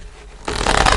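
Tarot cards are shuffled and drawn, a quiet rub giving way after about half a second to a louder, dense, papery riffle that holds to the end, close and alone.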